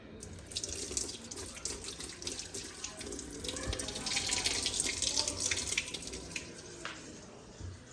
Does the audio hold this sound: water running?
yes